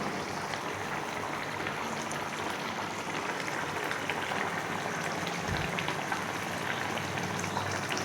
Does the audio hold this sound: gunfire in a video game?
no